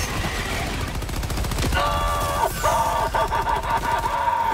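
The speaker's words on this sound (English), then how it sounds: "The Gatling sentries are not capable of telling friend from foe when they're" A Gatling sentry in Helldivers fires a rapid, continuous burst of close, loud gunfire with dense repeating shots and whining tonal layers, with faint talk mixed in.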